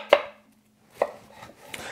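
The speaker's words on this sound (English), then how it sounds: "I'm just gonna chop, kind of do a rough chop with" A knife roughly chops fruit such as watermelon, strawberries or limes on a board: two or three sharp, close thuds spaced apart with quiet gaps between, no talking.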